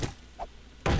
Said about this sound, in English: And this fire axe cuts through these trees like butter.